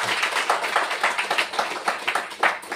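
Congregation clapping hands during a worship service, a steady run of sharp, fairly close claps with a rhythmic pulse, about three seconds with no talk over it.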